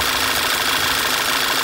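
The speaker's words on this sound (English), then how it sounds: "Engine is still running." Volkswagen Tiguan engine idling with the PCV valve removed, a close, loud, steady mechanical drone with a constant hissing rush layered on top, unbroken for the whole stretch.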